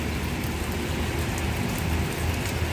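Heavy rain pours near a newly built bridge, a dense, loud, continuous hiss of drops hitting surfaces without pause or voices.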